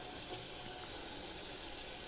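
An RV faucet runs while water and antifreeze are flushed out of the freshwater system, a steady close rush of water into the sink, unbroken and alone.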